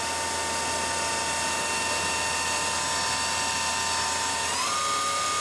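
A Kitamura Mycenter 2 vertical machining center spindle running at 5,000 RPM gives a steady, loud high whine with layered tonal hum, continuous throughout with a slight pitch shift near the end.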